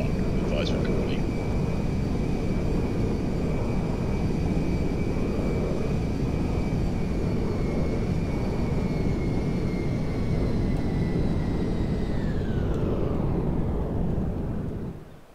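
An airplane lands on a runway in GTA 5, a loud, steady roar of engine and rushing air with a sustained whine that drops in pitch near the end before the noise fades.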